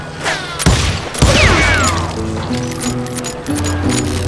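Gunfire in the Wild West shooter Call of Juarez: Gunslinger, several sharp shots and a burst at the start amid game music and effects, loud and close.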